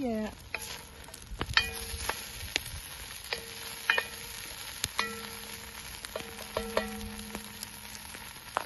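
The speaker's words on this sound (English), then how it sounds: "That saute for about, I don't know, 5 minutes, I guess." Bison stew ingredients, including rose hips and elderberries, sizzle and fry in a pan over an open wilderness fire, with steady crackling broken by sharp stirring scrapes and clinks.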